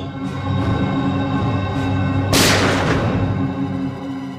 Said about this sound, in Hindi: सर गोली चलने की आवाज है।